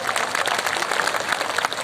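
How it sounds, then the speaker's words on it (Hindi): A crowd at an RCM business gathering in India claps in a steady, dense roar of applause that fills the whole moment without pause. "तो इन साथियों के लिए एक बार जोरदार ताली हो जाए।"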